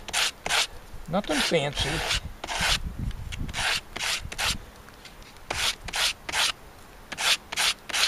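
Wood is sanded smooth by hand with quick, rhythmic back-and-forth rasping strokes, close and clear, and a brief spoken remark partway through.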